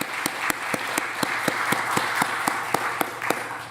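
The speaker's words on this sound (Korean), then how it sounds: "우리 박수로 격려하도록 하겠습니다." A church congregation applauds steadily during a Sunday service, with sharp individual claps standing out in an even rhythm throughout.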